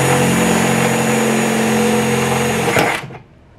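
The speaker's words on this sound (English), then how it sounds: "So you just want to drill it out" A power drill whines steadily while boring out metal on a Nissan 350Z quarter panel during a widebody install, loud and close, then spins down and stops near the end.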